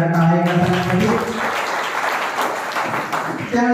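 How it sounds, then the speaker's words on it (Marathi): An audience at a student merit award ceremony claps in a sustained, fairly loud burst of applause, with a voice speaking at the start and again briefly at the end. "जोरदार टाळ्या करण्यासाठी."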